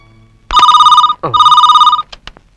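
A telephone bell rings loudly in two long trilling bursts, a brief pause between them, followed by a few short clicks as the ringing stops; no voices.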